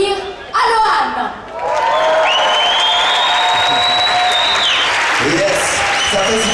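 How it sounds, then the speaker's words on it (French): Audience applause and cheering greet a Swiss band at a live show, loud and steady throughout, with shouts and a voice rising over the crowd noise. "Je vous demande de les applaudir."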